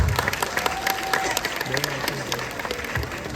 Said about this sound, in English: Okay, please clap.